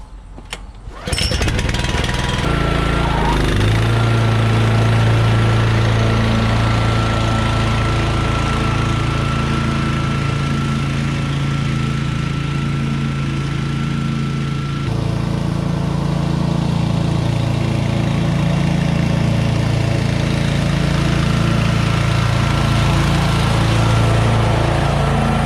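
A Ferris FW15 walk-behind lawn mower cuts wet grass with a loud, steady engine drone and a constant blade whir that holds for the whole stretch, close by and running alone with no voices.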